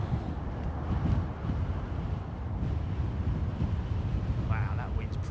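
Strong wind buffets the microphone at Heathrow airport, a continuous loud low rumble with gusty swells throughout.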